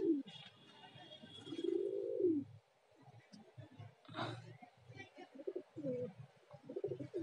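A yellow highflyer pigeon cooing at close range, low throaty coos mixed with breathy rustles, while someone talks quietly in between.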